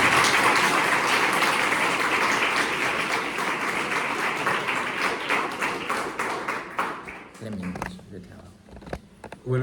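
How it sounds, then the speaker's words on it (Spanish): Conference audience breaking into sustained applause, dense and loud at first, then thinning into scattered individual claps toward the end while a voice briefly speaks. "os pido que le demos un aplauso"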